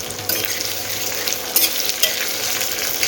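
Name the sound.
onions and whole spices frying in oil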